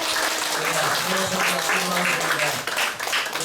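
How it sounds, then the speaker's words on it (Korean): Audience applause in a lecture room at a heritage-preservation society talk on hanok pest control, a steady dense wash of clapping for several seconds, moderately loud, with a few voices faintly mixed in. "큰 박수 한번 드리겠습니다"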